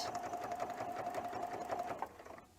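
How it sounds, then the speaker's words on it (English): A sewing machine edge-stitches close to the edge of a quilt appliqué, its steady rapid motor whir and needle patter running loud and continuous for about two seconds before stopping. "I'm simply sewing as close to the edge"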